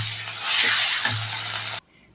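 Fried cabbage with a little sugar is stirred briefly in a hot pan, giving a loud close sizzle with a couple of scraping strokes before it cuts off abruptly.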